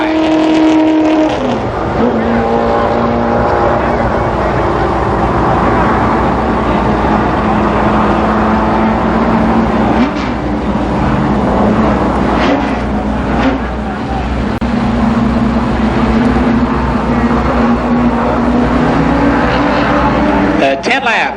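Late model stock cars race a 10-lap heat at Columbus Motor Speedway in 1992. A dense, continuous engine roar swells and fades as the pack circles the oval, loud throughout.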